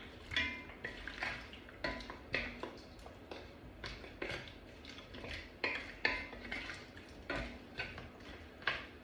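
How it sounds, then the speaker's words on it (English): A spoon stirring goat wet fry with Scotch bonnet in a pot, rapid repeated metallic clinks and scrapes against the pot's sides in an uneven rhythm, close and crisp, with no talking. "Now, give that a good stir. Make sure that's well stirred in."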